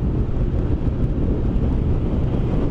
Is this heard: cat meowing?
no